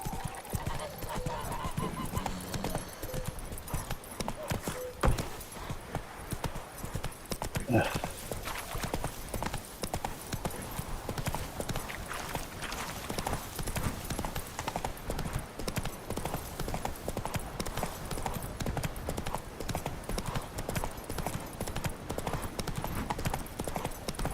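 A horse gallops in The Witcher video game, its hooves giving a fast, steady clip-clop throughout, with faint voices and game sounds underneath.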